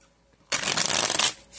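A deck of tarot cards is riffled in one quick, loud, close burst lasting under a second, alone and without speech.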